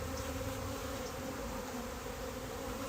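Honey bees swarming around beehive wax during a February hive inspection make a dense, continuous buzzing hum. It stays loud and close throughout and carries no speech.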